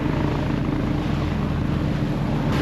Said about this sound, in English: there's a helicopter just there landing in the field in Warsash